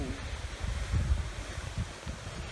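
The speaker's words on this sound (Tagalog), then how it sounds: "Dito na tayo sa waterfalls." A waterfall in Baguio City gives a steady, dense rushing roar up close, with low rumble and some wind buffeting the microphone throughout.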